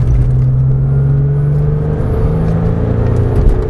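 A Porsche 911 on the Marcoussis track accelerates hard with its engine note climbing in a loud, close drone and a steady rising whine, heard from inside the car without talk.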